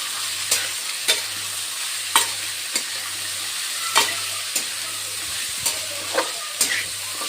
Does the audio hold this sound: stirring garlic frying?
yes